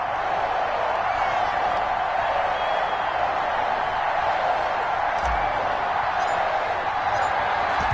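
Steady, dense stadium crowd roar from a Panthers vs Buccaneers football video game in Tampa, a continuous loud wash of massed voices with no clear peaks, one brief low thump partway through.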